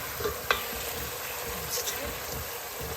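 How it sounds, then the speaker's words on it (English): Soft steady sizzling and bubbling as hot water is added to ogbono soup in a pot, with a brief clink or splash near the start and faint stirring scrapes. "we're just going to add some hot water gently. As you can see, it's sizzling."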